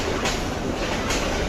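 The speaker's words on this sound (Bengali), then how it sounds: "প্ল্যাটফর্মে ঢুকে গেছে ট্রেন" A crowded passenger train rolls into the Sreepur railway station platform in Bangladesh on a rainy day, giving a steady, loud rumble of carriages and wheels close by, with no gaps.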